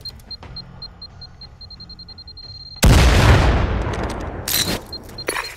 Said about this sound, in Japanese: ボタンを離せばグレネードを投げる。